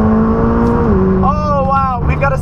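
McLaren 600LT engine revving high with a sustained, rising and shifting mechanical tone, heard from inside the car with a voice over it.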